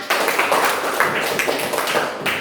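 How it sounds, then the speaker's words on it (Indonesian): A classroom of students claps together, a dense, fairly close burst of applause lasting a couple of seconds. "Iya, tepuk tangan."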